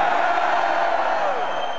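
A concert crowd at a heavy metal show in Sofia cheers and whoops in a sustained roar that fills the whole moment, heard from within the audience.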